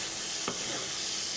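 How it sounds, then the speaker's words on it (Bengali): Giant freshwater prawns frying steadily in a pan, with a soft continuous sizzle and a single brief stir or scrape in the middle, close and fairly quiet, with no voices. "দেখুন, আমি মাছগুলো ভালোভাবে কষাচ্ছি।"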